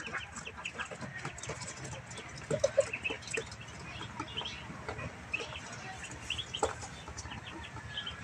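Chicks and ducks calling at a farmyard, with frequent soft peeps and clucks overlapping at moderate distance against a busy outdoor background.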